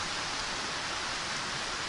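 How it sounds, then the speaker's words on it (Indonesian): Steady rain falls on an outdoor gathering, a dense, even hiss of drops filling the whole moment with no voices above it. "kenapa Anda bertahan hujan seperti ini?"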